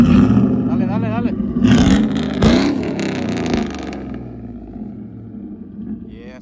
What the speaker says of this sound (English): Y'all wanna hear the exhaust?